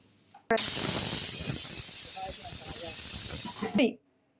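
A pressure cooker full of khichuri releases a loud, close whistle of steam, a sharp sustained hiss lasting about three seconds before cutting off abruptly.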